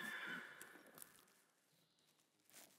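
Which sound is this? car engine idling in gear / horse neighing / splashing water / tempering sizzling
horse neighing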